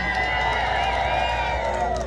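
A rally crowd in Amsterdam cheers and claps in a sustained, loud burst of voices and whoops, with a dense shouting wash carrying through the short stretch.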